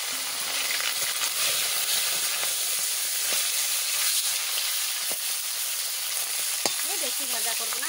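Fish heads frying in hot oil in a wok give a loud, dense, steady hiss and sizzle with occasional sharp crackles, close up throughout, and a voice enters briefly at the end.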